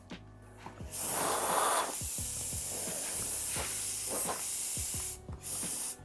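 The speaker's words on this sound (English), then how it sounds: "spraying these parts was nearly a disaster" A Harbor Freight spray gun spraying Cerakote onto Yamaha YZ125 engine parts hisses continuously for several seconds, a loud airy spray with slight pulsing, starting and stopping briefly near the end.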